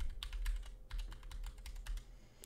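Rapid keystrokes on a computer keyboard as sign-up details such as name, email and password are entered, a steady close patter of clicks with no voices.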